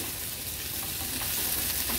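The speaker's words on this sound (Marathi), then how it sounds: "हे बघा व्यवस्थित आपण ही परतून घेतली आहे" Boiled potato sabzi stir-frying in a spiced tempering over moderate heat, a steady soft sizzle with faint scraping from stirring, alone and close.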